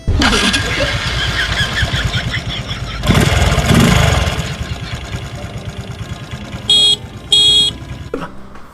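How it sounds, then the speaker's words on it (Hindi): A small scooter motor revs and sputters with a rising whine, then two short, bright electronic horn beeps sound near the end. "ब्रेक दबाने से एक्सीलेटर चलता है और एक्सीलेटर से हॉर्न बजता है"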